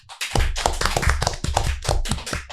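An audience claps at a school podcast session at SMA Negeri 5 Taruna Brawijaya, a close, steady run of quick rhythmic hand claps with no talk.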